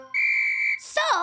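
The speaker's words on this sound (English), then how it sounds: "It's a whistle." A cartoon whistle is blown once, a steady shrill tone held for about half a second, then a burst of chattering cartoon voices and sound effects follows.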